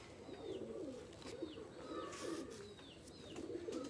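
Pigeons coo softly and repeatedly in a morning setting, with several chirping calls over a faint, low background murmur.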